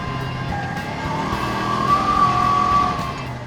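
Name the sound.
Kubota Sidekick gas utility vehicle driving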